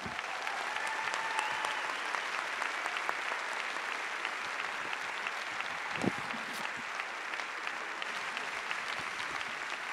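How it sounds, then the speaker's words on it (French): Sustained applause from an audience at a Génération·s political meeting in December 2018, a steady even wash of clapping throughout with no talk over it. "vous pouvez les applaudir encore plus chaleureusement, Léa Filoche et Yves Contasso."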